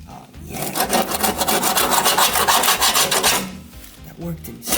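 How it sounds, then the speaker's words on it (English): Rough rhythmic scraping of paint stripper residue off the bare metal frame of a childhood go-kart, a quick series of close, loud rasping strokes that stop abruptly near the end. "Need like a little something scraping."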